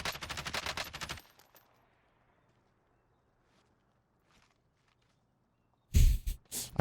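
Suppressed gunfire in the Warzone video game: a rapid burst of muffled automatic shots at the start, a near-silent stretch with faint distant noises, then another sharp loud burst at the end.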